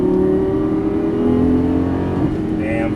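A Lamborghini Gallardo LP550-2 on a racing track accelerates under hard throttle, its engine drone loud and close, climbing steadily in pitch, then dropping briefly and rising again near the end.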